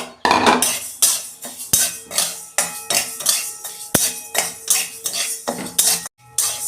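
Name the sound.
moong dal being dry-roasted and stirred in a pan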